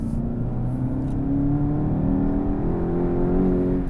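Manual Volkswagen GTI accelerating, heard from inside as a steady engine drone whose pitch climbs gradually through the gear, fairly loud and with no talking.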